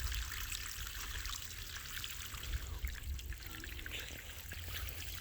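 Water trickling and splashing steadily from a swimming pool pipe inlet, a continuous close watery flow with no voices.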